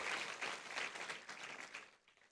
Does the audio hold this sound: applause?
yes